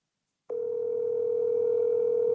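A steady, unbroken telephone tone on an unanswered call cuts in abruptly after a half-second of silence and holds loud and constant to the end, with no voices over it.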